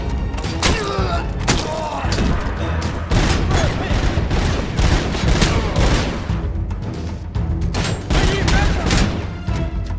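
Rapid, dense gunfire from a robotic cop's weapon in the video game RoboCop: Unfinished Business, with repeated loud shots and heavy thuds packed tightly together throughout and no pause between them.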